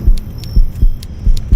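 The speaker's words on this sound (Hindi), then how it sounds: "उसके दिल की धड़कनें" Heartbeat sound effect in a suspense story, deep low thumps repeating steadily in close, loud pairs, alone with no voice.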